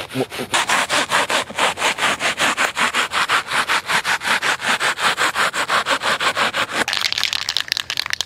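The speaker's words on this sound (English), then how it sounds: "Now this is a Sawzall blade." A reciprocating Sawzall blade cuts through a wooden target, a steady rapid back-and-forth rasp repeating for several seconds close to the microphone before stopping abruptly.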